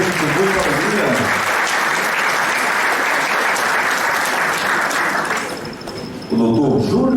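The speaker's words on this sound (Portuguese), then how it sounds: "Vamos aplaudir também com muita alegria" Sustained audience applause at an honoring ceremony for past presidents of the Pernambuco bar association, a dense wash of many hands clapping for several seconds that dips briefly near the end, with a voice speaking at the start and finish.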